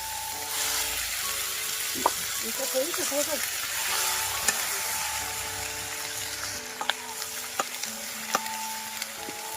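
Fish fries in hot oil in a home kitchen pan, a soft continuous sizzle with occasional sharp clicks and scrapes of a utensil, a voice faintly audible at moments.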